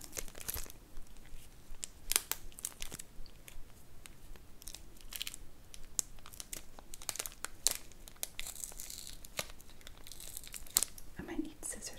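Crinkly plastic candy wrappers are crumpled and torn open close to the microphone, sharp irregular crackles and rips scattered across a quiet background.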